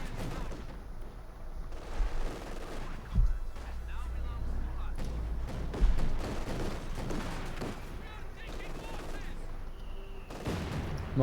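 Mortar rounds fire in the video game Company of Heroes 2, giving dull booming thumps amid battle noise and scattered gunfire, while a commentator talks over the action.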